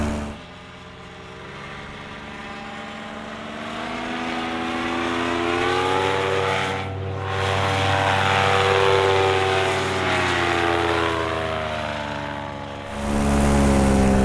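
A paramotor engine fitted with a custom stainless steel exhaust runs at full power, a steady, loud, buzzing drone whose pitch climbs slightly, dips briefly and surges again near the end.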